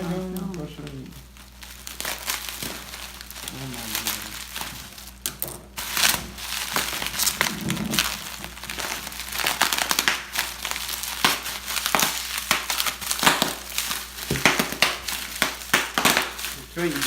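Paper and plastic wrapping around a packaged metal lightsaber hilt crinkle, tear and crunch in loud, irregular bursts close by, with people talking now and then.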